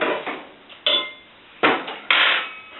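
Spoon being pulled out with cutlery and dishes clinking, several sharp close metallic clatters spaced about a second apart in a quiet kitchen.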